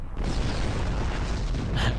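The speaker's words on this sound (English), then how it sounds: "Unfortunately, explosions do hurt you if you're too close." A deep, rumbling explosion in Star Trek Online, a sustained low boom that fills the whole moment, loud and close, with a brighter burst near the end.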